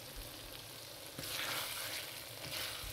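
Lamb curry being stirred in a cooking pot, a steady broadband sizzle with scraping of a spoon against the pot, growing slightly louder partway through, with no talking.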